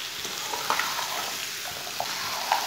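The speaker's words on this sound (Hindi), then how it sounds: "अच्छी तरह मिक्स करके इसे 3-4 मिनट के लिए ऐसे ही भून लेंगे," Okra fries in a pan while a spoon stirs it, a continuous bright sizzle with occasional scraping taps of the spoon, close and alone.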